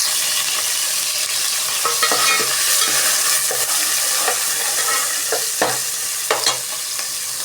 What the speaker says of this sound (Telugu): ఇందులో కొన్ని ఎల్లిపాయలు, ఉల్లిపాయలు, 2 పచ్చిమిర్చి బాగా ఫ్రై చేసుకుందాం.